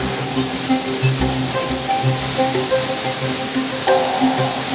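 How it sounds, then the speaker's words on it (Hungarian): A mountain stream flows in a continuous, close rushing and splashing wash of water, steady and loud throughout, with no voices. "A patak környéke"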